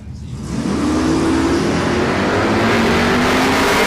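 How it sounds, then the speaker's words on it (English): Drag-racing Holden LC Torana with a 383 cubic inch Chevrolet V8 launching at a street drag event: loud engine roaring and rising steadily in pitch as it accelerates, close and continuous, no talking. "He is running a 383 cubic inch Chev under the bonnet of the LC Tirana."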